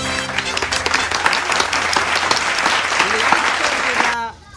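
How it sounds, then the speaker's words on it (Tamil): A crowd claps loudly during a Pongal celebration prize announcement, with dense close handclaps and voices mixed in beneath, continuing strongly before cutting off abruptly near the end. "கைதட்டுங்க"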